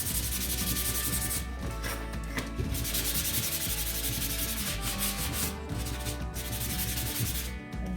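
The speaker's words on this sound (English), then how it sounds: "And you can sand both sides." Steady rough rubbing of sandpaper on the edges of a laser-cut wooden DIY kit piece, close and continuous for the whole stretch, with a few faint knocks.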